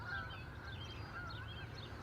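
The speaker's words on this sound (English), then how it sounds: "There's some of those geese I was telling you about." Several geese honk at a distance near an airport, faint and intermittent calls over a low steady background rumble.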